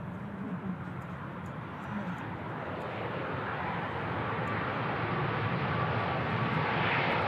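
A Ryanair flight in from Krakow, Poland, arriving at Manchester Airport: a steady jet roar that slowly builds in loudness over several seconds, heard from a distance with broad rushing noise and no talk.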